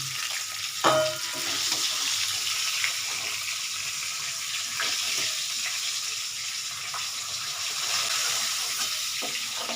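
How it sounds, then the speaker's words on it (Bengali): Pieces of tilapia fish frying in hot oil give a steady, close, broadband sizzle that runs the whole time, with a few sharp clinks and scrapes of a utensil against the pan; nobody speaks. "মাছ ভাজাগুলো হয়ে গেল"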